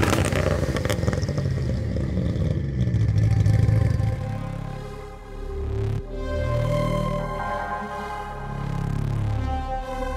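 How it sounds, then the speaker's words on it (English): A 955 bhp Nissan R33 GTR with a sequential gearbox revs hard from inside the car, its loud engine rising and falling through several surges with a brief crack partway through. "So we're out in the GTR and the revving on this, the flames, the pops and bangs."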